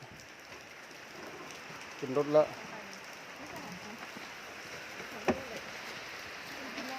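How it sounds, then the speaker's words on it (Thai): Steady rain falls throughout, a soft even hiss with a couple of brief louder knocks; a voice speaks briefly near the start. "บรรยากาศฝน ดินดินฝนตกดินดินครับ"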